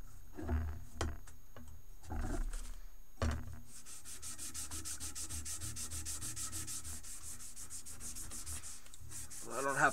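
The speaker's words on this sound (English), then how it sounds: "To reprofile the blade." Sanding to reprofile a cleaver blade that already carries a compound bevel, a steady rasping, rhythmic scrape running almost continuously after a few short strokes at the start, fairly loud and close with no talk.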